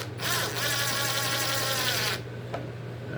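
A Ridgid three-speed brushless impact driver whirs at a high pitch for about two seconds, driving a screw into OSB, then cuts off abruptly, leaving a low hum and a brief click.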